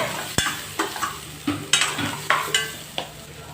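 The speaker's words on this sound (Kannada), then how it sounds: "ನೋಡಿ, ಒಣಮೆಣಸಿನ್ಕಾಯಿ ತೊಗೊಳ್ಳೋಣ, 4-5. ಇದನ್ನು ಕೂಡ ಚೆನ್ನಾಗಿ ಫ್ರೈ ಮಾಡಬೇಕು." Dried red chillies fry in a pan, with soft sizzling under a series of scraping stirs about every half second, close up and moderately loud, with no talking.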